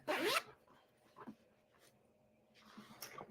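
A zipper runs down the front of a pink and green garment, a quick bright zip followed by softer fabric rustles and a second brief zip near the end.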